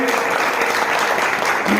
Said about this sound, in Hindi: जोरदार तालियों से इनका अभिनंदन और स्वागत करें।